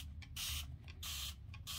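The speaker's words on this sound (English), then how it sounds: "I'm just taking a bottle that's a mister and going to heavily spray my Q-tips." A spray bottle mister heavily spritzes Q-tips for paint art, several quick hissing bursts in a row separated by short pauses, close and clear in a quiet room.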